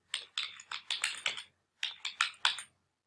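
Computer keyboard typing while a domain name is entered, two quick runs of light, crisp keystrokes with a short pause between, close and fairly quiet.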